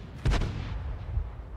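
A Hummel self-propelled artillery gun in a tank video game fires one loud, booming round. A rumbling tail and faint after-rumble follow as the blast fades.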